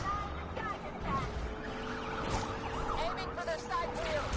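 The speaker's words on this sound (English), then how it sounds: "if you get a cop to low enough health, you start actually hearing the siren sound being broken" A damaged police car siren in the racing game NFS Unbound wails in warbling, uneven sweeps over steady engine and road roar, with a voice talking over the game audio.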